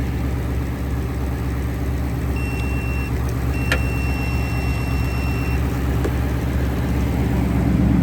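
A 2015 Ford Mustang GT bought at auction for rebuilding idles with a steady low rumble throughout, close by and constant, with a faint high electronic beep partway through and no talking.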